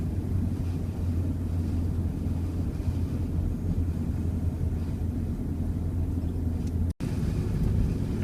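A Subaru with a turbocharged EA82T engine cruises at an even, constant throttle around 60 km/h, producing a steady low engine drone and road rumble with a brief cut near the end.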